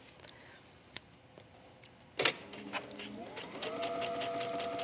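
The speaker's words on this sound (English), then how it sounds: "I start to stitch and I lift my hand up and place the ruffle around" A sewing machine starts up after a few soft clicks and handling taps, running at a steady, rising hum as it stitches a ruffle onto a wrap dress.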